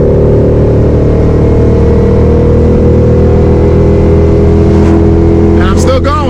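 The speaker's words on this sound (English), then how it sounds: "You guys can hear the car going higher and higher RPM." A Ford Mustang making 800 wheel horsepower revs up hard in first gear, a loud, steady engine drone climbing in pitch with no break, with brief higher-pitched sounds near the end.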